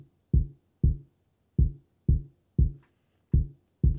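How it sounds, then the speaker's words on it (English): Kick drum hits made from thumping a harp's body and knocking its foot against the floor land as seven deep, dry, isolated thuds at a slightly uneven pace, close and alone with silence between. "And the kick drums on their own sound like this."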